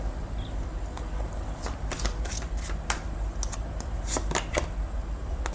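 Tarot cards shuffled and drawn by hand, a close run of crisp riffling and flicking snaps that comes in quick clustered bursts against a quiet room background.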